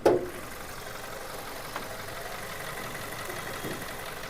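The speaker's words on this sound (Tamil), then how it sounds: "இப்போ வண்டியோட இன்ஜின் நம்ம ஸ்டார்ட் பண்ணிட்டோம்." A 2011 Volkswagen Vento automatic idles just after starting, a brief sharp catch at the start settling into a steady, even engine hum at moderate level with no talk.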